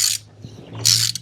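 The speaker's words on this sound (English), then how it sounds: "put that old filter housing on there. Tighten up" Ratcheting mechanical clicks while tightening the oil filter housing on a Mercedes GLE450e during an oil change: a short burst of close ratchet noise, a quieter pause, then a second, longer burst.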